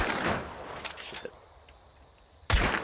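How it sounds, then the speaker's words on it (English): Gunshots fired through a wall in Hunt: Showdown: a loud blast opens the clip, then quieter clatter follows, and a second sharp shot lands near the end. "Shoot you through the wall there, buddy."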